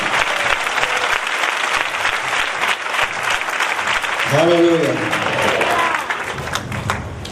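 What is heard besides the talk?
congregation applauding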